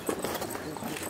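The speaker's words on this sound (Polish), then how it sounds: "Koń ucieka." Horse hooves clip-clop briefly over a noisy outdoor background, with voices mixed in.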